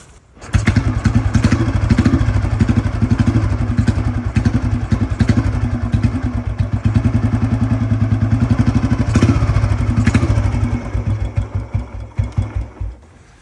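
A motorcycle engine with no battery fitted fires up and idles steadily, a close, loud rhythmic putter running throughout with a few uneven revs near the end.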